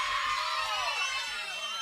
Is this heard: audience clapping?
yes